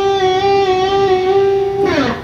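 A sustained electric guitar note bends upward and wavers in repeated rebends, ringing clearly alone before a brief slide at the end.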